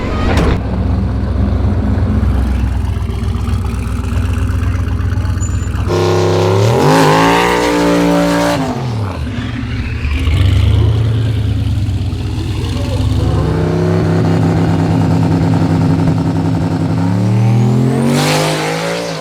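A Toyota Sequoia makes a drag racing pass, its engine roaring loud and close as it launches, then rising and falling through gear changes and revving hard again near the end, with no voice over it.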